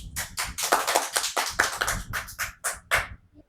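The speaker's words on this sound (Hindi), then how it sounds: "इसके लिए तालियां बजनी चाहिए" Brief burst of applause, a small group clapping in uneven quick bursts that taper off within a few seconds.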